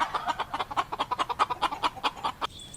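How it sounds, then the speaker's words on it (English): Chickens cluck in a rapid, steady stream of short, sharp pulses, close and continuous for a few seconds. "chickens"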